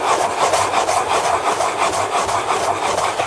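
Leather is rubbed in steady circular strokes over 250 grit sandpaper laid on a flat surface. The result is a continuous, close, even rasping scrub with no pauses.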